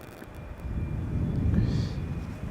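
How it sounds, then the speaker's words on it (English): A KLM Boeing 777-300 arriving from Johannesburg at Amsterdam Schiphol gives off a brief, faint, distant engine rumble that builds slightly and then holds. "777-300 arriving from Johannesburg"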